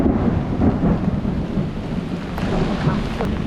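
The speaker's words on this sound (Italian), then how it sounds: "qui i temporali quando scoppiano sono veramente forti" An outdoor thunderstorm, heavy rain roaring steadily with deep rolling thunder rumbling underneath throughout.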